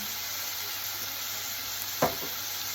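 Sponge gourd (patola) sautés in a pan with pepper and seasoning, a steady close sizzle broken once by a short utensil knock.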